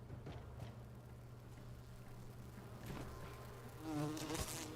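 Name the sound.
bees buzzing and attacking in video game Enshrouded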